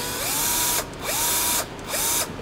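An old Bosch power tool that runs weak until warmed up whirs in three short bursts with brief pauses between, its motor whine rising as each run starts, loud and close.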